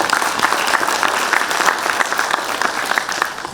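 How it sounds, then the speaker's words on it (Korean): A crowd at a policy forum on support for small business owners claps together in a lively, even round of applause with some individual sharp claps standing out, sustained for a few seconds. "감사의 박수 부탁드리겠습니다"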